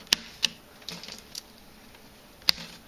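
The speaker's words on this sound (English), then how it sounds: "Just bend them up, get your nippers under there, and snip them off." Nippers snipping off small leftover tails of wide binding cane in a tight herringbone weave: a few sharp, brief clicks, close and fairly quiet, with short pauses between cuts.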